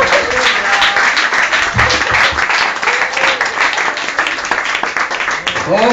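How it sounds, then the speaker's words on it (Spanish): A church congregation at a Spanish-language sermon bursts into sustained, loud applause that keeps a steady level throughout, mixed with shouting and cheering voices. "Dale un aplauso a Dios."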